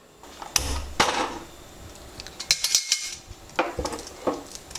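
A clay pot set down on a stove while making gongura chutney, giving a few sharp, close knocks of pottery against metal, separated by quiet gaps and followed by some lighter clinks.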